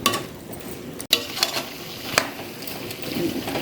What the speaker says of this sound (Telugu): ఇది కొంచెం చక్కగా ఇలా కలుపుకోవాలి, అంతా ముక్కలన్నిటికీ చక్కగా ఈవెన్గా పట్టిద్ది.